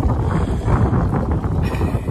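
Strong wind buffets the microphone during a winter mountain ascent of the Pic d'Ayous, a loud, steady roar with gusty swells and no talking.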